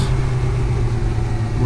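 A car engine idles close by on a farm, a steady low rumble with a constant hum that holds evenly throughout, with no voices.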